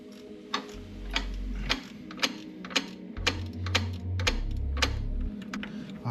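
Ratcheting clicks from loosening the starter bolts on a Subaru WRX STI, with a steady run of sharp ticks under low mechanical rumble and no talking.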